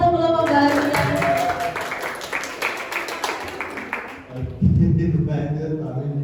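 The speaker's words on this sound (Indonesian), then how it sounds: "Tepuk tangan untuk kelompok bahagia." Audience clapping for a school drama group at a junior high class performance, a burst of hand claps in a room that fades out partway through, followed by talking.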